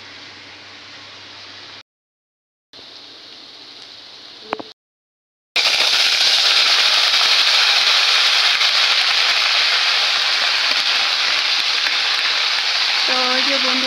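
Dry chilli, bay leaf and cumin hit hot oil for a vegetarian tempering: after a few quiet seconds, a loud, steady sizzle and crackle bursts in and holds close and unbroken to the end.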